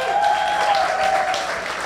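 An audience at a Windy City Times celebration applauding the newspaper's team, sustained clapping that fills the room while a voice continues faintly underneath.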